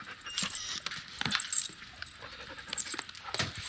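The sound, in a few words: dog in the TV show Breaking Bad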